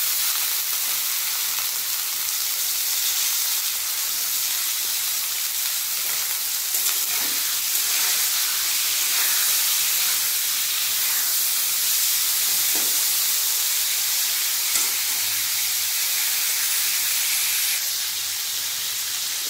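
Bottle gourd stems go into lightly fried potatoes in hot oil, raising a loud, steady steaming sizzle that hisses continuously close up, with occasional stirring knocks and no talking.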